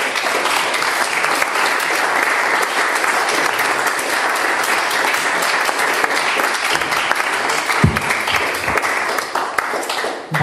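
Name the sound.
audience applause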